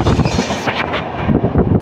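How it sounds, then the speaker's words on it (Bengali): The Duronto Express from Howrah to Bengaluru runs on rails through hilly country, a loud close rumble with rhythmic wheel clatter heard from on board. "পাহাড়ের মাঝখান দিয়ে ট্রেন ছুটে চলেছে"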